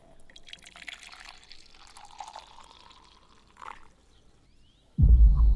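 Tea trickles and splashes as it is poured into a mug, a soft, continuous liquid pour for a few seconds before a sudden loud, heavy thump cuts in at the end.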